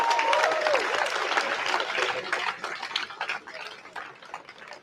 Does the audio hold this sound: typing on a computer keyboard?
no